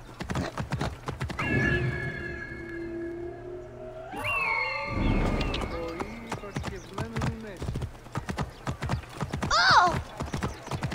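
A horse in Assassin's Creed Origins, in Alexandria, clip-clops along with steady hoofbeats and lets out a loud neigh, the hooves continuing in a quick rhythm up close.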